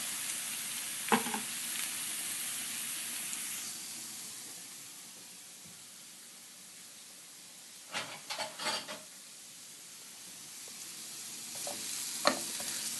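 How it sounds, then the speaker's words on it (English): White onions sizzle steadily in a hot pan, a constant frying hiss broken by a few scraping stirs of a utensil. "Hear them sizzle."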